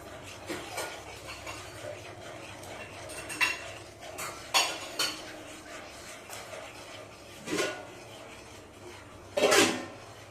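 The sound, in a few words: stirring masala semolina idli mixture in a pan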